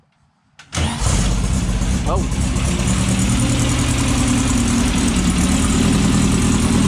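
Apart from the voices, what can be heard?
buggy engine starting and idling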